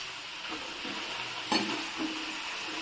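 Vegetables fry with red chili and salt in a village-style hill kitchen, a steady close sizzle with occasional stirring scrapes and one brief louder clatter.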